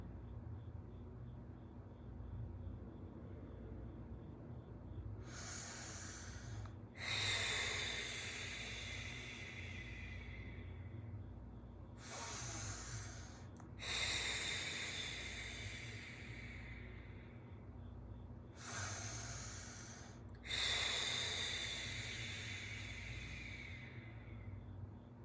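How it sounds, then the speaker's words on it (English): Three slow, deep breaths during a guided meditation, each a soft hiss of inhalation followed by a longer, louder exhale, close to the microphone over a low steady hum. "let's take 3 deep breaths."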